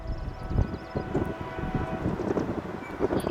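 An eastbound CN freight train approaching a crossing in Waterloo, Iowa, heard as a distant low rumble with a faint horn-like tone, steady and moderately quiet.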